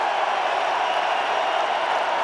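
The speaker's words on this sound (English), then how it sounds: "That's why the crowd's reacting as we speak." A football stadium crowd at a 2002 NFC divisional playoff game between San Francisco and Tampa Bay roars steadily as a dense, distant wash of cheering without breaks.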